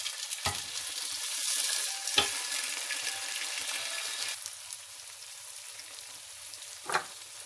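Tomatoes hit hot oil in a pan of frying aloo gobi (potato and cauliflower curry), giving a steady, fairly quiet hiss of sizzling with a few sharp clinks of stirring at the start and again near the end.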